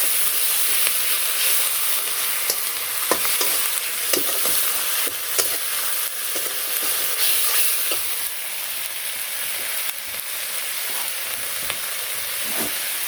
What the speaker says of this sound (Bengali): তারপর ধনিয়া, কাঁচা পাকা মরিচ, তো সব কিছু দিয়ে ভালো করে কষিয়ে নিই